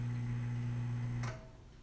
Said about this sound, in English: the microwave still makes noise, it still rotates